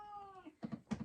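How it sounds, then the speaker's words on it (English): A cat gives a close, faint meow with a falling pitch, followed by a few short chirping mews in quick succession. "Like the cat is talking."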